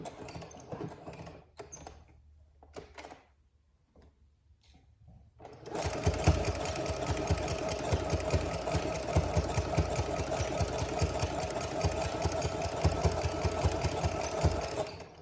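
A sewing machine runs steadily, stitching a fabric pad with rapid, close mechanical chatter that starts after a few seconds of quiet handling sounds and continues loud and unbroken.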